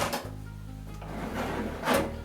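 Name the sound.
chaff drawer being pulled out of coffee roaster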